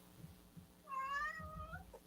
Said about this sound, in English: I hear a cat. Yeah, she's scratching at the door.